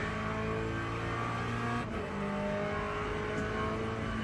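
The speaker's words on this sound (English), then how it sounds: "Don't really like the audio on this car." Race car engine in the Le Mans Ultimate racing game, a loud steady drone with layered harmonics and a brief dip around a gear change, no talking.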